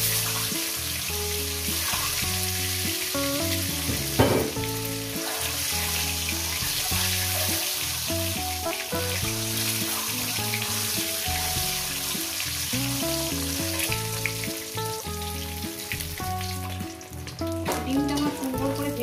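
Eggs fry in hot oil with a steady, continuous sizzle that lasts throughout, mixed with background music.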